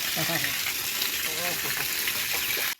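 Water gushes in a steady, loud rush from the outlet of a borewell motor pump, with voices talking over the flow throughout.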